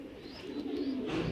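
Racing pigeon squabs from a club's loft give faint, low cooing notes that swell slightly toward the end, quiet and close with no talking.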